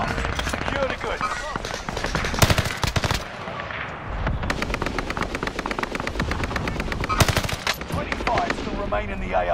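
Rapid automatic gunfire from Call of Duty Warzone Resurgence, loud dense bursts of shots with short pauses between, while a player talks over the firefight.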